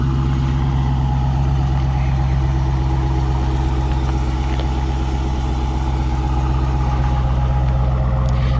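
A 2015 Dodge Challenger R/T Scat Pack V8 idles steadily up close, with a loud, deep rumble and a constant low throb throughout and no talking.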